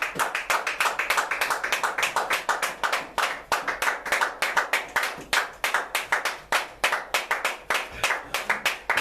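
A church congregation claps together in a steady, rapid rhythm, loud and close, with many hands striking continuously in unison throughout and no talking over it.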